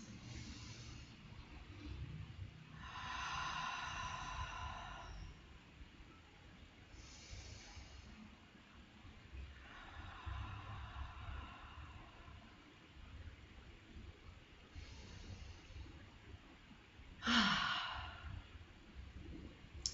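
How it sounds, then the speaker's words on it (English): Slow, deep breaths in and out repeat about every few seconds as long airy whooshes, close and clear, with a sharper exhale near the end and no talking. "What we're going to do first is just breathe in and out a few times,"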